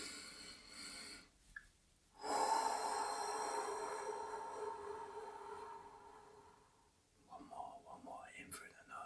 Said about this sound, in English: So, just nice and deep breaths, ready? So, in through the nose.